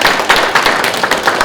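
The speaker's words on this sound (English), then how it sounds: "can we give her a round of applause?" An audience at an honors research showcase on a college campus gives a staff organizer a round of applause: dense, steady clapping from a nearby room with small surges, and no voices standing out.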